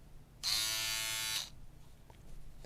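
A Philips All in One Trimmer 5000 foil shaver runs for about a second with a steady, close, high-pitched electric buzz, then switches off, leaving quiet room sound.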